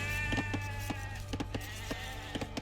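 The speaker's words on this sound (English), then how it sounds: "there's a sheep" Short sheep bleats from Age of Empires II, a few quick calls set against a steady game music and ambience bed with faint clicks.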